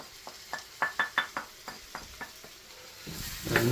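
Chilli, coriander and garam masala powders frying in a pan, heard as a run of sharp, evenly spaced spoon scrapes and taps over a soft sizzle that swells louder near the end, close up with no talking.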